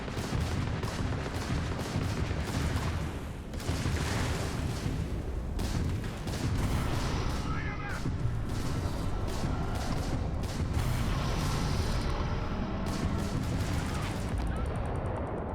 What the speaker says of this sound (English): You can see the turrets are already going on their own.